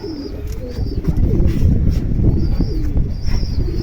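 Soft, low pigeon cooing repeats through a busy, rumbling background, with faint higher chirps drifting in.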